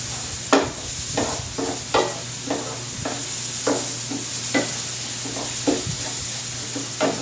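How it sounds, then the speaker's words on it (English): A spoon scrapes and stirs a mushroom soup mixture in a pot, repeated rhythmic swishes and scrapes about every half second over a low steady background hum, with no talking. "we're just going to stir this all up together"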